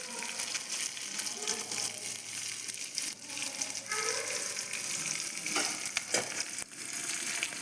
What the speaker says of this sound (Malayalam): ഇതിന് നന്നായിട്ടൊന്ന് മൂത്ത് വരട്ടെ നമുക്ക് ഇളക്കി കൊടുക്കാം